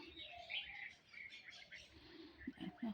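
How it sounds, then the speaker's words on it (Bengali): Several small birds chirp and tweet in the morning as they gather to be fed outdoors, with brief soft coos mixed in; the calls are steady and moderately close, with no talking. "অনেক পাখিরা সকালবেলায় ওদেরও তো খিদে পায় খেতে দিই আর সব পাখিরা আসে দেখো"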